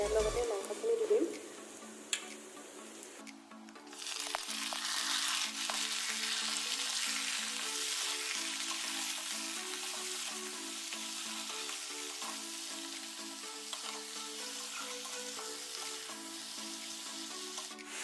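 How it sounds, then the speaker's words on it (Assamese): Onions and chicken meat frying in a pan, a steady close sizzle that swells after a brief quiet start and continues evenly with faint stirring, no talk over it. "পিঁয়াজখিনি ৰঙচুৱা হোৱালৈকে লৰাই ভাজি ল'ম।"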